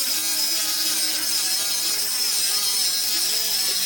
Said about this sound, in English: we decided to cut the new backing plate up for the headlights, and we're using our cut-off wheel